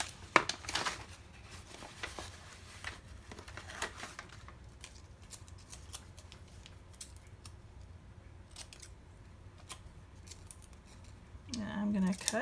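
Scissors snip repeatedly through Avery label sheets, a series of quiet crisp cuts with paper rustling, and brief voice near the end.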